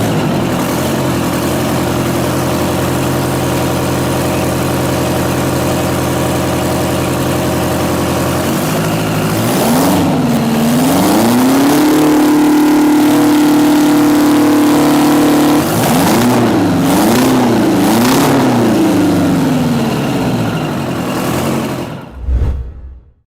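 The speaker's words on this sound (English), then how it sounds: "That signature Detroit diesel howl, intense, piercing, and packed with two-stroke power." A Detroit two-stroke diesel engine without a turbo idles loudly, then revs up in several rising and falling howls, holds a high piercing wail, revs again and cuts off at the end.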